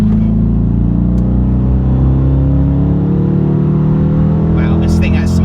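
A Dodge Charger Daytona accelerates hard from 45 mph in four-cylinder mode, its engine holding a loud, steady, rising drone heard from inside the cabin, with a brief voice near the end.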